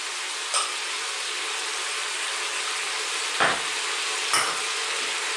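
Ginger, garlic and onions fry in a pan for a lamb curry, giving a steady broadband sizzle throughout, with a few brief scraping stir strokes rising above it.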